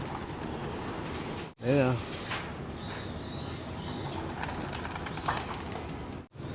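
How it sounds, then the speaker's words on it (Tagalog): A pigeon from a loft aviary gives a short, soft coo once amid steady outdoor noise, while a person talks nearby. "Ito na yung mga ibon namin mga kalapatids."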